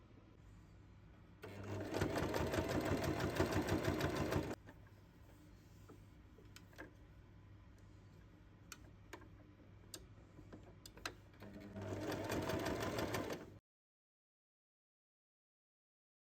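A sewing machine topstitches fabric in two bursts of rapid, steady mechanical stitching, separated by quieter ticks and clicks, then falls silent.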